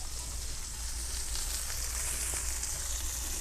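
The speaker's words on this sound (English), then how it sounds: "We'll get those going in a little of the drawn butter." Fresh green beans with sliced almonds sizzle steadily in drawn butter in a pan, a constant bright crackling hiss that stays even and close throughout with no voices.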